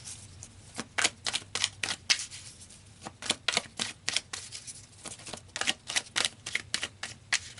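Tarot cards riffled and shuffled in a quiet room, a run of crisp papery bursts in uneven rhythm, close and fairly loud, with slaps as cards are pulled from the deck.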